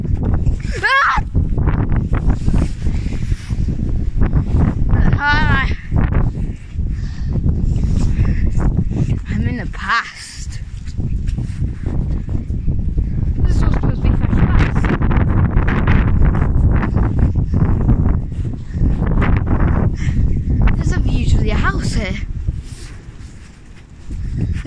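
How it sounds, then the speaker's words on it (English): Wind buffets the microphone in loud, continuous gusts outdoors, with people talking and exclaiming over the rushing noise throughout. "Oh god, the wind."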